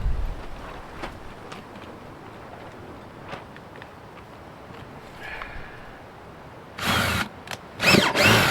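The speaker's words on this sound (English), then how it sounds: "So now I need 1/4 inch through holes." A power drill with a 1/4 inch bit bores through holes for a homemade gold sluice, with short high whirring bursts near the end after quieter handling and faint ticks.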